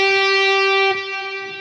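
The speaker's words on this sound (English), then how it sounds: "right now I have it set to be a swell, and it sounds like this" A guitar tone is shaped by a Source Audio Ventris reverb pedal on a swell setting, giving a delayed reverb. A sustained ringing note holds steadily, then a soft attack arrives and the tail fades and blooms.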